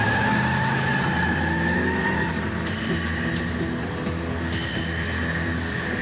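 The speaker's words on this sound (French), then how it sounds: "L'avion est là." A plane near airfield hangars preparing to take off, with a loud steady engine whine and hum running unbroken throughout, close by and with no talk.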